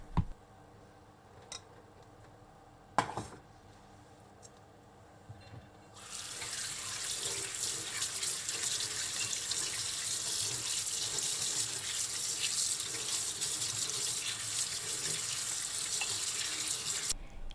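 A kitchen tap runs into a sink to rinse boiled daikon radish, a steady hiss of flowing water starting after a few quiet seconds with faint clicks and knocks, and continuing loud and even to the end.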